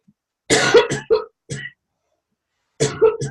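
A person coughs several times in short, close bursts. The coughs are separated by silence and come in two clusters.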